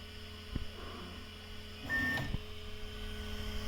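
A printer runs its purge cycle with a low mechanical hum, a short click early on and a brief louder whirring burst midway. The hum then settles back to a quiet, steady drone.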